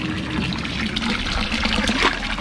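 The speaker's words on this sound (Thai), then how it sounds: "อันตัวนี้มันมีน้ำไหลนะ ออกมาเนี่ยครับ" Hot spring water pours steadily from a pipe, a continuous splashing gush with a bubbling trickle, close by and fairly loud.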